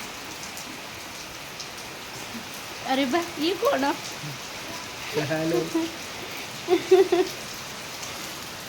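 Heavy rain falling as a steady, dense hiss of drops on surfaces, loud and continuous throughout, with a few short bursts of people talking over it.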